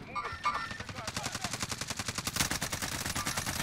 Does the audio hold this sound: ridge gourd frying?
no